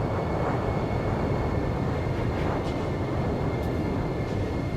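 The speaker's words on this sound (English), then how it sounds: "I want to get airborne before the runway is blocked." A steady, loud jet engine roar and hiss from a plane waiting on a runway before takeoff in the Ace Combat 5 video game, continuous and unchanging throughout.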